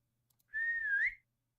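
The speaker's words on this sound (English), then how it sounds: "that was the whistle" A single sustained whistle sounds as a sound effect during a tabletop RPG session, sliding slightly upward in pitch over about half a second before cutting off, clear and alone against near silence.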